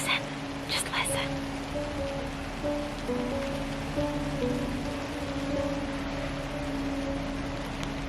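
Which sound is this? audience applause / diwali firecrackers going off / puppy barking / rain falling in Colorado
rain falling in Colorado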